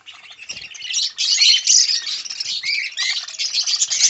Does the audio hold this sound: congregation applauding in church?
no